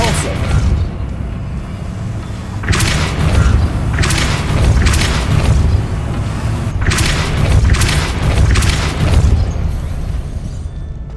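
Spell-casting impacts from the video game Hogwarts Legacy, the Depulso force-push spell among them, land as repeated loud booming bursts over a constant game soundscape, about six heavy thumps spread across the stretch.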